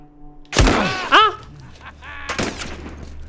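Gunfire in The Last of Us, a loud close shot with a sharp bang followed by further reports and a burst of impacts, with a voice crying out between them.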